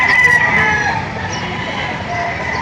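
Chickens cluck and a rooster crows close by at a livestock auction market in Padre Garcia, Batangas, a short burst of farmyard fowl noise.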